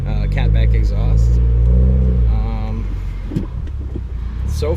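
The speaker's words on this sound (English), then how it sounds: "we are gonna go ahead and go on this drive with this Grimmspeed catted J-pipe paired up with my GReddy SP exhaust, Catback exhaust" 2016 Subaru WRX with a Grimmspeed catted J-pipe and GReddy SP catback exhaust, a deep rumbling drone that swells as it revs, heard from inside during a drive under a talking voice.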